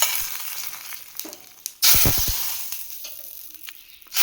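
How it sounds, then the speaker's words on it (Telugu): Spices and garlic hit hot oil with a sudden loud sizzle and crackle that bursts out, then slowly fades to a gentle hiss. "తాలింపు కూడా వేసుకుందాం."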